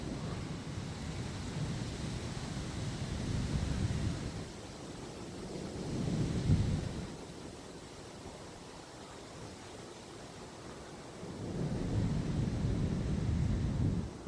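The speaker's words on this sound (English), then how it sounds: "I haven't seen a storm this bad in a while." Low rumbling thunder from a summer thunderstorm over Milwaukee, Wisconsin, swelling in several long rolls between quieter stretches of wind-like noise, with no voices.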